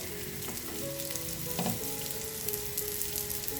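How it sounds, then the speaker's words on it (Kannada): Flattened rice (poha) patties frying in a pan, a steady close sizzle with faint tonal hum and one brief clatter midway, no talking. "ಸೊ ಈ ಸೈಡು ನಾವು ಚೆನ್ನಾಗಿ ಬ್ರೌನ್ ಆಗೋ ತನಕ ಬೇಯಿಸ್ಕೊಂಡು ಬರೋಣ."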